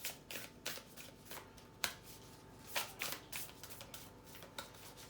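A deck of new tarot-style oracle cards shuffled close up, a series of quick riffling bursts and soft flicks repeating irregularly in a quiet room.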